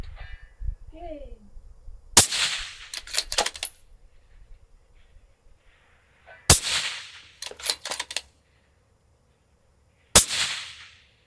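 Three sharp, loud cracks from a suppressed precision rifle fired outdoors, spaced several seconds apart, each followed by brief mechanical clatter of the bolt being cycled.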